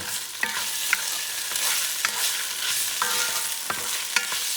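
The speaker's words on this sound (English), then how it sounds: "I'm going to put some color to the salchichon" Slices of salchichon sausage fry and brown in a pan over medium heat, a steady close sizzle broken by sharp spatula scrapes and clicks as the pieces are stirred.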